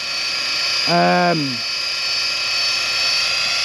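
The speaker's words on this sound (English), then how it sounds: "This is a 550X, but it's more like a 600 size helicopter." A steady high-pitched whine of a 550X-size RC scale Bell Huey helicopter's rotors and motor hums throughout, with a brief rising-then-falling tonal sound near the start.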